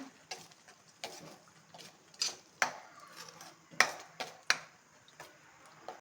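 A spoon scrapes and clinks against a pan while masala with chilli powder is stirred and fried, sharp intermittent knocks over a faint, quiet sizzle.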